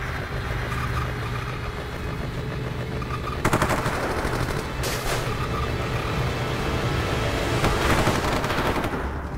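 Heavy automatic gunfire in a video game, a dense continuous rattle of shots with a few louder bursts over a rumbling engine-like background.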